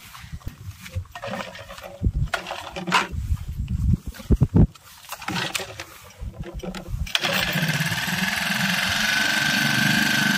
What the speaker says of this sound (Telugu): మీకు ఎట్లా పంపు స్టార్ట్ చేస్తారో చూపెడతా.